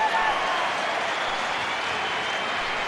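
Dense, steady roar of a football crowd applauding and cheering in a large stadium near the end of an England v Czechoslovakia international match, a broad unbroken wash of clapping filling the whole stretch.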